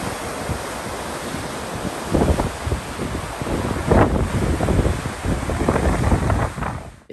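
Wind sweeps across an open cruise ship deck on the P&O Iona, a steady blustery rush buffeting the microphone, with louder gusts swelling midway and toward the end.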